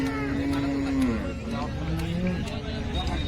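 A cow moos with a long, low drawn-out call, followed by a shorter second moo, amid outdoor background noise at a cattle market.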